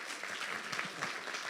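Audience applause at a board of directors institute session, a steady dense wash of clapping sustained evenly throughout at moderate distance.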